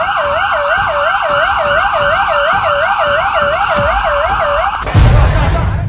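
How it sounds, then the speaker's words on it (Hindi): An ambulance siren wails in a fast, regular rising-and-falling pattern near New Delhi Railway Station during a stampede, loud and close, then cut off by a sudden burst of broadband crowd or traffic noise at the end. "एम्बुलेंस की आवाज कानों में गूंज रही थी।"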